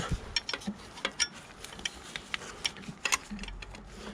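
Ratchet working a 10mm nut in the engine bay of a 1996–2001 Toyota Camry with the 1MZ-FE V6, giving sparse, faint clicks and ticks spread across a few quiet seconds, with no talking.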